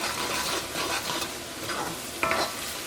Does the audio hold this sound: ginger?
yes